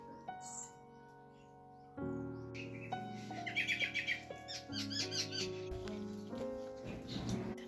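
Small birds chirp and twitter in the Konkan countryside, with quick bright calls clustering in the middle and end, set against sustained musical tones in the background; no one speaks.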